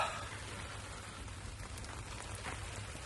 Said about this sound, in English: as you can hear, the rain is coming down again